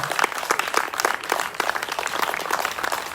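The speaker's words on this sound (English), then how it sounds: "this legend here deserves a big round of applause" A crowd claps for a guest during an interview, a continuous patter of many hands with uneven bursts, fairly close and moderately loud, running on its own without speech.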